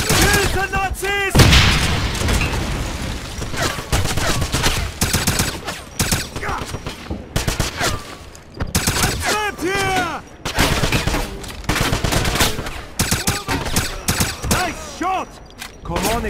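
Bursts of gunfire and grenade blasts in a Wolfenstein shooter game, with rapid volleys and sharp booms continuing throughout, while soldiers shout over the combat.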